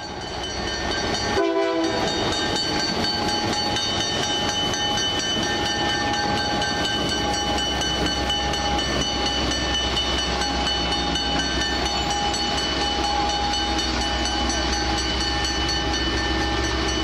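A 40-year-old Canadian-built GMD1 diesel locomotive at Cienfuegos station in Cuba gives a brief horn blast, then its engine rumbles loud and steady with tonal whine as the train moves.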